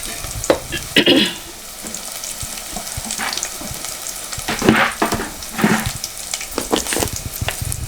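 Tomatoes stirred and cooked in a pan for a village-style broad bean curry: a close, steady sizzle with several louder scraping stirs and clatters scattered across the clip.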